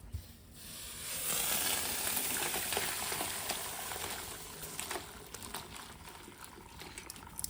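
Water at a rolling boil in a pot with turmeric and salt, used for blanching fish before drying, bubbling and sizzling steadily and close by throughout, with no talk over it.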